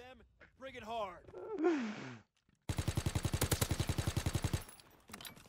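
A rapid burst of automatic gunfire rattles out in a shooter video game's Gun Game mode, about two seconds of evenly spaced shots, preceded by a player's excited vocal sounds and a short gap.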